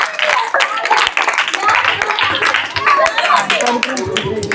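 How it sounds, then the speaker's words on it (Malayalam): Children clapping together during a singing session with young kids, a busy burst of many hand claps mixed with voices and chatter throughout. "നല്ലൊരു ക്ലാപ്പ് കൊടുക്കും."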